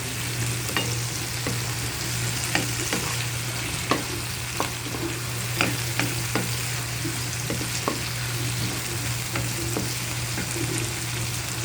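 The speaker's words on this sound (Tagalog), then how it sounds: "Importante kasing magisa din ang curry paste." Curry paste for a seafood curry sautés in a pan with a steady, close sizzling hiss, broken by scattered sharp clicks from stirring, with no voices.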